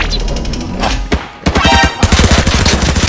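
Rapid gunfire in the shooter game Arena Breakout, loud bursts and single shots crackling close by, with a brief lull before a dense run of automatic fire.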